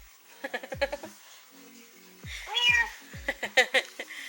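A cat meows several times up close, short chirpy calls clustered together with a longer, rising meow in the middle.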